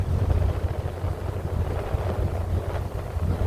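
A deep, steady rumble from a car ferry's two six-cylinder engines with heavy wind buffeting the microphone, continuous throughout and without voices.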